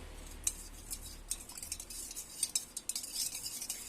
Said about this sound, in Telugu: ఇప్పుడు ఒక స్పూన్ హెల్ప్తో మనం మిక్స్ చేసుకోవాలి